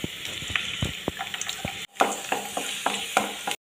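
Chopped garlic sizzling in hot coconut oil in a pan, a steady close crackling fry with spoon stirring and scraping knocks throughout, broken by a brief pause midway.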